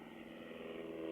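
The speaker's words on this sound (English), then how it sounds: "Plane." Aircraft engine droning steadily overhead, a continuous mid-pitched hum that grows slightly louder toward the end, heard outdoors near a site with a large old cannon and a tree.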